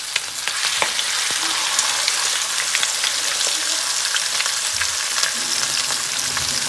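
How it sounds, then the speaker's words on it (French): Quails crackle in hot oil in a frying pan, a dense, steady sizzle with scattered sharp pops throughout, loud and close with no voices. "Je vais faire revenir mes cailles."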